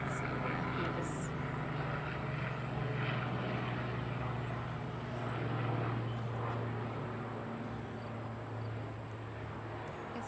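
Aircraft engine drone hums steadily overhead outdoors on a hot sunny day, a low continuous rumble swelling slightly midway, while someone talks over it.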